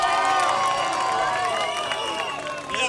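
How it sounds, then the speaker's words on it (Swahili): A crowd at an outdoor football event claps and cheers, with several voices calling and singing over a steady, dense wash of applause that holds throughout. "Haya, na timu ya Kolino pia tuwapigie makofi."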